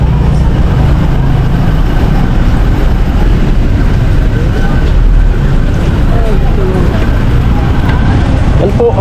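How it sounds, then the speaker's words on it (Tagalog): Road traffic in Nabua during a typhoon, with motorbikes and vehicles on partly flooded streets, heard as a loud, steady, near rumble of engines and movement that never lets up, with faint voices mixed in. "Ayan, traffic na."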